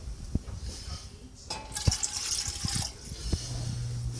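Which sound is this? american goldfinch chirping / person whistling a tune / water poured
water poured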